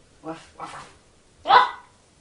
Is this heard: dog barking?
yes